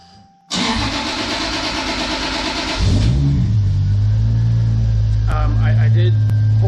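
A car engine with freshly re-gapped spark plugs cranks and fires with a sudden loud roar, revs hard for a couple of seconds, then drops to a deep rumbling idle with a few light clicks. It is close and loud.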